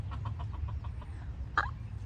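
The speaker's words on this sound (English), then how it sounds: "Do you hear my chicken laughing at me on the side?" A pet chicken clucks close by in a quick run of soft, evenly spaced clucks, then lets out one sharper, louder squawk, all over a low steady background hum.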